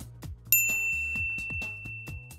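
A bright notification bell ding sound effect rings once and lingers over a steady, rhythmic thumping music beat.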